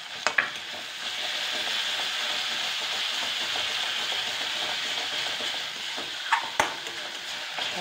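Ginger, garlic and green chilli paste sizzles steadily in hot oil in a pan for an Indian potato dish, a continuous bright hiss broken by a few sharp scrapes of a spoon stirring near the start and end.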